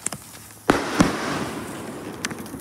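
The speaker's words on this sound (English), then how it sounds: "our second medium fireworks" Medium-sized consumer fireworks let off on Independence Day: a sharp crack is followed by a second bang and a crackling hiss of sparks, then scattered small pops fading away outdoors.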